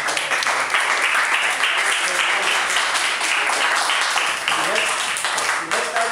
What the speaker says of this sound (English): give us big round of applause, please